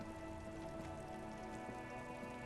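Steady rain falling in Disco Elysium, with soft, continuous patter on surfaces layered under constant game ambience and faint tonal music, no voices.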